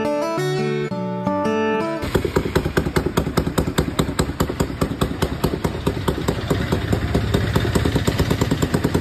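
Motorcycle engine running with its silencer removed, giving a loud, rapid putt-putt exhaust chatter that starts abruptly after a short stretch of music and continues steadily close by.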